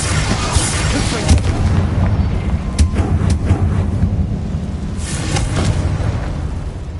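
A Bombarda blasting spell explodes in Hogwarts Legacy, a heavy rumbling boom that fills the stretch with dense low-end roar and crackling debris, loud and sustained throughout.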